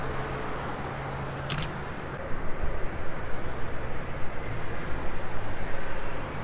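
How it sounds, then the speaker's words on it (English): Highway traffic roars steadily from behind a fence outside a building, a broad continuous wash of noise with a faint low rumble, no voices. "The traffic noise you hear is a highway behind you, behind this fence."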